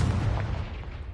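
A Confringo blasting spell in Hogwarts Legacy goes off as one loud, booming explosion with a rumbling tail that fades quickly.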